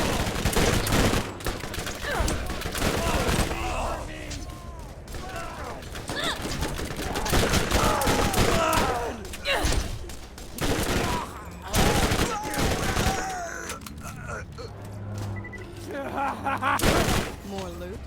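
Dense video game gunfire in rapid, overlapping bursts and volleys, loud and sustained, with a voice talking intermittently over the shooting.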